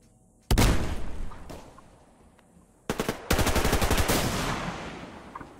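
Loud automatic gunfire in the shooter game Survarium, one sharp burst followed by a fading tail, then a second burst rolling into sustained rapid fire, close and dominant.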